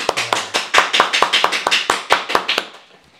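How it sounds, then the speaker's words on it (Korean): Audience at a monthly staff assembly claps in a short burst of sharp, irregular handclaps, loud and close, fading out after about three seconds. "박수 한번 해주세요."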